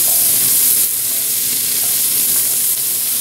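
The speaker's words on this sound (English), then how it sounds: "Go ahead and fry these onions off." Onions frying in a pan, a loud, steady crackling sizzle with faint scraping of a utensil across the bottom, heard up close without voices.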